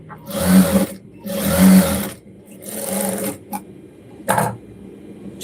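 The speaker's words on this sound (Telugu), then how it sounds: "అండ్ నెక్స్ట్ ఆన్ చేసుకొని పై వైపు కూడా స్టిచ్ అనేది వేసుకోవాలి" A sewing machine stitches the front part of a garment in several close, loud bursts separated by brief pauses, with a shorter burst near the end and no talking.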